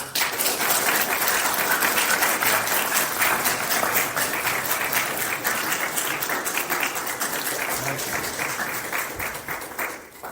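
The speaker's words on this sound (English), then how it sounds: "So we start with a massive round of applause." A large audience gives a sustained round of applause at a university geography lecture, dense loud clapping that carries for about ten seconds before tapering off near the end.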